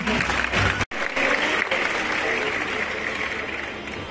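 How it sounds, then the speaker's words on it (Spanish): Dense audience applause at a science museum event in Valencia, a loud sustained clapping wash broken by a brief dropout near the start, then continuing evenly. "este fuerte aplauso del público"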